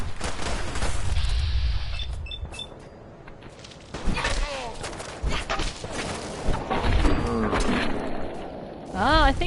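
Gunfire from raider gunners in Fallout 4 at Nuka World, scattered sharp shots and bursts mixed with game effects and creature noises, while a voice talks over it.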